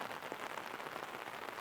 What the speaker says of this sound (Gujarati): વરસાદમાં શું મજા આવવાની છે.